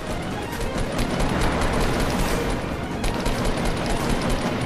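Rapid bursts of gunfire from the video game Fortnite crackle densely and continuously, loud and close, with a sharper cluster of shots partway through.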